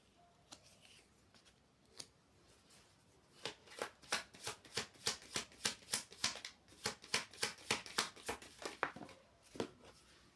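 A deck of tarot cards is shuffled by hand, starting with a few sparse taps and then building into a quick, even run of crisp card slaps, close and fairly quiet with no talking.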